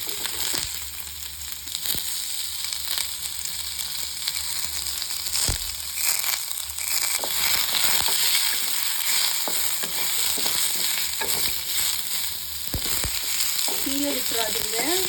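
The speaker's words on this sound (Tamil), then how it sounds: "மீடியம் ஃப்ளேம்லேயே வச்சு நம்ம வறுத்துக்கலாம்." Frying and stirring in a pan over a medium flame while making chicken kulambu, a steady loud sizzle with scraping stir strokes throughout, close up and with no talking.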